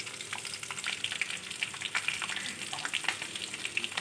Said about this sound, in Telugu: జీలకర్ర, పచ్చిమిర్చి, కొద్దిగా ఫ్రై అవ్వనించి